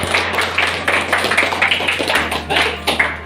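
Audience applause in a classroom session, a steady patter of many hands clapping throughout with sharp individual claps standing out near the microphone and a low hum underneath.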